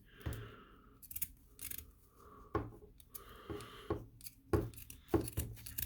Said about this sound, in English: Cut right through that sock.